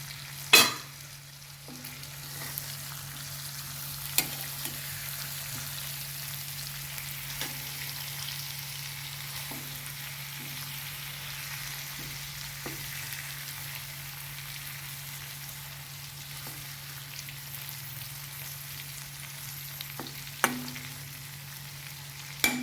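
Stuffed bitter gourd fries slowly in a pan over a low gas flame, giving a faint, steady sizzle with occasional soft pops and clicks, plus a low hum underneath.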